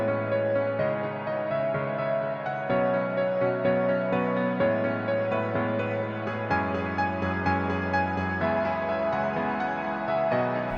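Lush progressive trance synth chords, washed in reverb and delay, shift through a slow progression in a dense sustained layer. The sound stays loud and steady for the whole stretch, with no voices.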